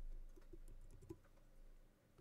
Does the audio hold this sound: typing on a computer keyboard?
yes